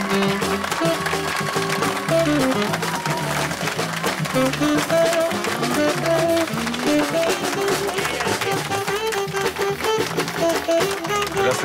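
At a wedding reception, guests applaud the newlyweds with dense, continuous clapping that runs throughout, mixed with loud music and scattered voices.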